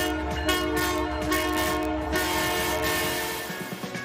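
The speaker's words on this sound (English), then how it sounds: "the CPKC holiday train making its way through several communities in the region" CPKC holiday train rolling through a community in Eastern Ontario, loud and close, its horn sounding a long sustained blast over the heavy rumble and clatter of the passing cars.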